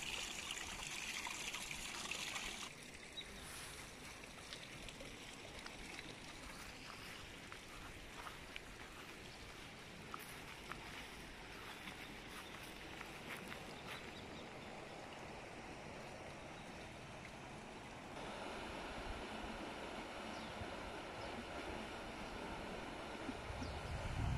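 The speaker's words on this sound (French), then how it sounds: "Ça doit être la cascade qu'on voit un peu plus haut là-bas." Steady rushing water fills the whole stretch, a constant broad wash like a waterfall or fast stream, with no voices.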